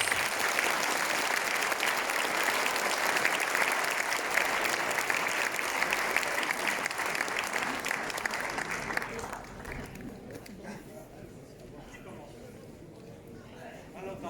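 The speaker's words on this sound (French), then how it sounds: "Et je crois qu'on peut d'ores et déjà les applaudir." Audience at a mayor's New Year greetings ceremony applauding the children's municipal council, a dense, steady wash of clapping for about nine seconds that then thins and fades to scattered claps.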